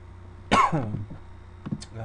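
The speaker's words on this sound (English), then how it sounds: "I'm sure listening to me cough is just making this video that much better" A single harsh cough bursts out close by, followed by a softer throat-clearing sound a moment later, over a quiet background.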